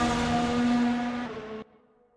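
A Red Bull Racing car in a racing video game drives past on track, its engine a steady high-pitched whine that fades slightly, then cuts off abruptly into near silence.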